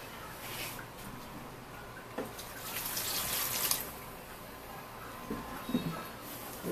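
A glass of water is poured into a cooking pot in a home kitchen, a splashing pour with a few bursts and drips over quiet background noise.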